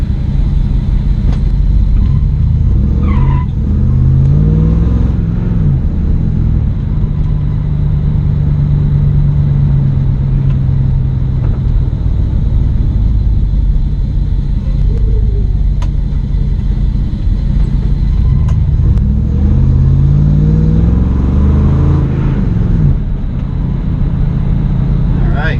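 A 1965 Ford Mustang driving, a loud, close low engine rumble with road noise filling the cabin, rising and falling with acceleration, while a person talks over it at times.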